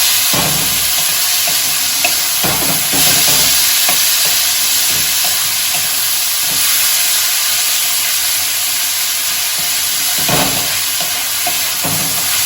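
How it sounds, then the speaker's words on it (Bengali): Dal fried with onions in a pan makes a steady, close hissing sizzle, broken by occasional scraping stirs of a spoon against the metal. "ডালটা দিয়েও আমি একটুখানি সময় নেড়ে নেব, এর সাথে একটু ভাজা ভাজা করে নেব।"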